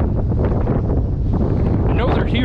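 Strong wind buffeting a microphone on a fishing boat off Ocean City, Maryland, a loud continuous low roar that fills the whole clip.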